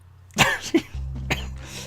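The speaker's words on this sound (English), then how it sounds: "Don't start coughing now." A couple of short, harsh coughs close up from a game character in Donkey Kong Country, separated by a brief pause, over a low steady hum.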